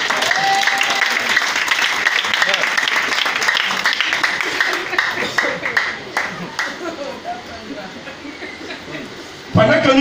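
A church congregation applauds to acclaim the Lord, dense sustained clapping mixed with voices and a few chuckles that thins out toward the end before a sudden louder burst.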